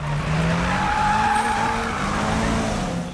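Tires squeal in a sustained skid as a car drifts in tandem in the Need for Speed video game, a loud, steady whine over engine roar lasting the full few seconds with no talk.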